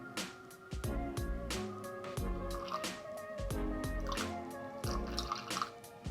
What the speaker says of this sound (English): So I'm going to add 20 grams of water.